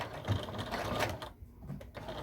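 A home sewing machine back stitching fabric for a fanny pack belt bag, running in short close-up bursts with a brief pause partway through, and no speech.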